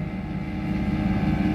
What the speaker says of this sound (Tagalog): Ang diri mo ni siya speedboat. Kusog kayo mulangoy.